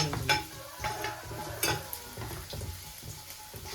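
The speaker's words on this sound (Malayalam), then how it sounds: "കറിവേപ്പില കൂടി ഇട്ടിട്ടൊന്ന് മിക്സ് ചെയ്യാം." Curry leaves tossed into onions frying in a pan, with steady sizzling and crackling under a run of stirring scrapes and spoon taps against the pan.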